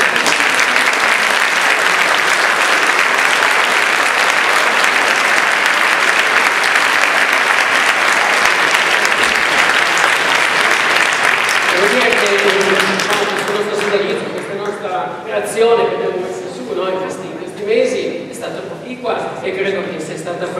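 A large audience applauds steadily and loudly for several seconds at a band's Christmas concert, then the clapping thins out and fades as voices and room sound take over.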